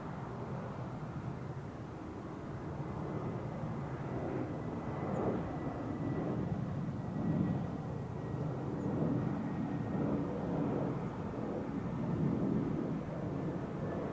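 An airliner lands on runway 14 at Zurich Airport. Its broad, rumbling roar holds steady for the whole stretch, swelling gently and fading back a few times at moderate distance.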